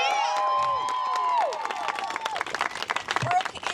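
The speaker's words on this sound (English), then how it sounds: "Let's give her a big" Outdoor crowd cheering and clapping for a woman setting off on a run around Australia, loud whistles and shouts over scattered applause, then rapid clapping.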